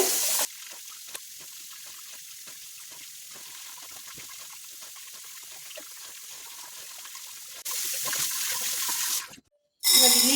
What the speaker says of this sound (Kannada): ತೊಳೆಯೋಣ ಚೆನ್ನಾಗಿ ತೊಳಿಬೇಕಿದು ಮಣ್ಣಿರುತ್ತೆ